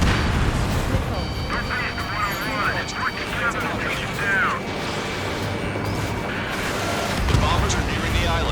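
Missile explosions and gunfire from the Ace Combat 7 flight combat game, a dense steady rumble of battle noise running through the clip, with radio voices talking over it.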